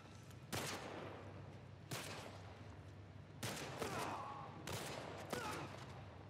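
Gunshots in The Last of Us Part I, four separate sharp reports spaced about a second and a half apart over a low steady background hum, moderately close and fairly faint overall.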